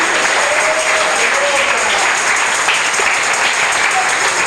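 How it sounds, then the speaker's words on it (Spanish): A church congregation applauds in sustained, dense clapping that fills the whole stretch at a loud, even level, with no talk over it. "denle el aplauso al Cristo que vive"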